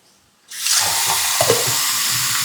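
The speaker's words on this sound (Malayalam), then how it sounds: "വെള്ളം ഒഴിച്ച് നമ്മുടെ ഗ്രേവി രൂപത്തിലാക്കാം." Water poured into a pot of simmering homemade country-style chicken curry to make gravy, a sudden steady rushing hiss with sizzling underneath that starts after a brief quiet moment and runs on evenly, close by.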